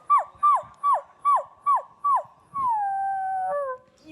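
A person's voice imitates a dog on a TV show: six quick, evenly spaced yelping cries that slide downward, then one long sustained howl that wavers and fades, loud and close.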